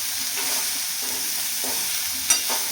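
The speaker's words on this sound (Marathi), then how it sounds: "आता ह्याला एका साईडने पूर्ण कारलं म्हणजे व्यवस्थित भाजत नाही तोपर्यंत आपल्याला याला परतून घ्यायचं" Bitter gourd sautéing in a pan gives a steady, close sizzle with soft stirring scrapes throughout and one brief sharper clink near the end; no voices.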